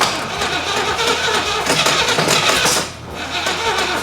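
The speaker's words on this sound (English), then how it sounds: "Crank her up!" A Chevrolet Camaro Z/28 with a 4-speed, its timing off, cranks loudly and steadily under a close mic before the engine catches, with a brief dip near the end, and no voices.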